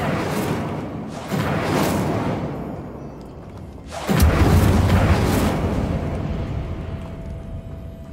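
Incendio fire spell cast in the Hogwarts Legacy video game: loud whooshing bursts, with a heavy booming flare about halfway through that rumbles on and then tails off.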